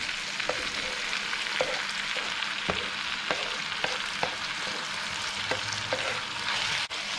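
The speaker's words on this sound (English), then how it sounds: "I've got 2 large tomatoes here that I've just roughly chopped. I'm going to throw them in." Roughly chopped large tomatoes tossed into a pan of sautéing onions, with a continuous close sizzle and a series of sharp spoon taps and scrapes against the pan at a loose, uneven rhythm. No one speaks.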